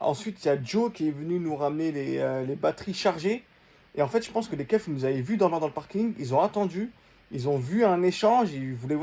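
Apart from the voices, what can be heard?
None of the usual background noises is heard.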